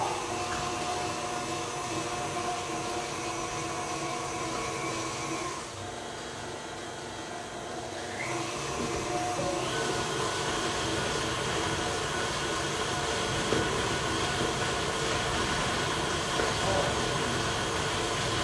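An electric mixer beats bread dough with a steady, droning motor hum that dips briefly partway through, then carries on evenly to the end; no clear talk over it.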